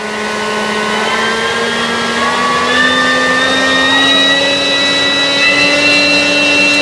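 An E-flite Carbon-Z T-28 RC plane's electric motor spins a 3-blade prop at 50% throttle, giving a steady, loud whine with bright tones that climb slowly in pitch.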